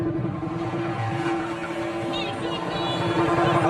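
A car spins in a stunt driving display in South Africa, its engine revving under a steady high tire squeal, with crowd noise and voices throughout.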